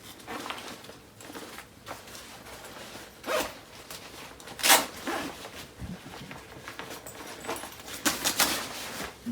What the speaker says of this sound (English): zips down both sides of the front panel